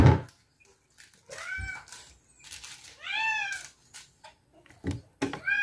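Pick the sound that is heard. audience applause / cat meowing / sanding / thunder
cat meowing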